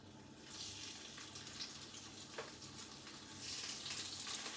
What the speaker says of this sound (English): Melt your lard in a non-stick pan or wok and simply add the pork sausage pieces until they're browned on all sides.